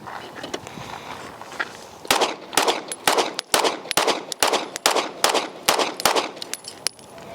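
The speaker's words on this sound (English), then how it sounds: "so these are the first rounds to the standard Echelon, and then right after it, the ported one" Pistol shots from a Springfield Echelon, standard and ported versions, fired in a quick string of about ten sharp, loud reports at an outdoor range, evenly spaced after a quieter start.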